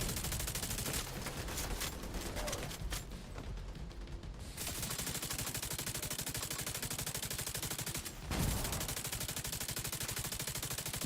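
Continuous rapid gunfire in The Division 2, a steady stream of automatic shots at moderate loudness with a brief pause near the end before firing resumes.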